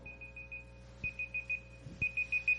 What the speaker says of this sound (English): That's my alarm. I set a countdown timer.